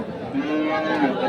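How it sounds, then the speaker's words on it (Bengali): A bullock moos at the Ambari cattle market in Dinajpur, one loud, close, drawn-out low call over faint crowd chatter. "চমৎকার একটি বলদ গরু"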